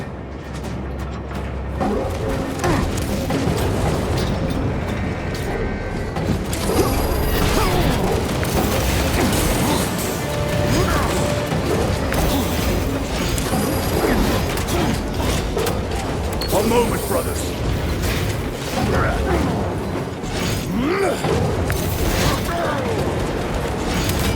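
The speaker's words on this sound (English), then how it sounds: "The elevator's almost here." Heavy mechanical grinding and ratcheting from an elevator arriving in the Warhammer 40,000 video game Space Marine 2, a steady clanking drone with bursts of metallic clatter, and a voice speaks at times over it.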